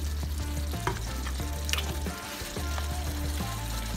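Cauliflower rice frying in a pan as its water cooks off, a continuous close sizzle with crackles and the scrape of stirring, briefly quieter in the middle before the frying noise returns, with no voices.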